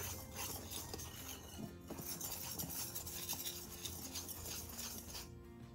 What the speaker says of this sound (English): Give this a quick whisk until it's well blended, or you can sift them.